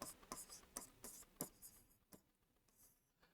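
A pen scratches on paper in short, faint strokes close up, an irregular run of soft scrapes and taps in a quiet room.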